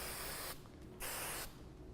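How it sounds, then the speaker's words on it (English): Hairspray mists onto an Indian bridal updo in two short hissing bursts separated by a brief pause, soft and close. "I'm going to spray."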